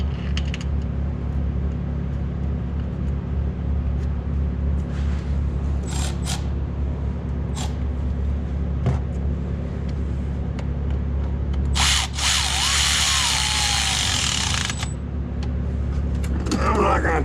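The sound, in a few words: power drill driving bolts on golf cart motor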